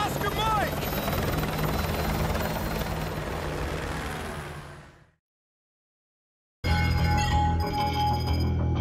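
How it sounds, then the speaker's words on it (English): A helicopter in the Call of Duty Modern Warfare 2 video game roars loud and steady with rotor thump and engine whine, fades out to a few seconds of silence, then cuts back in at full strength. "I'll brief you on the chopper."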